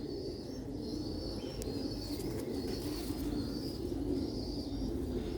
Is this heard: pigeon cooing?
yes